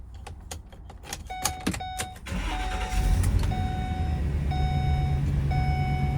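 A few clicks and chimes, then a 2014 Ford E-350 Super Duty 16-foot box truck's engine cranks and turns over around two seconds in, settling into a steady idle while a repeating dashboard chime sounds.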